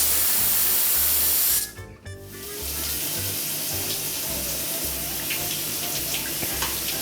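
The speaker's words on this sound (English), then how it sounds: "we'll turn it off and run it under cold water to release the pressure immediately." Cold tap water runs with a steady hissing spray over a pressure cooker to release its pressure after cooking dal palak, briefly interrupted near the start, then flowing on continuously, close and fairly loud without talk.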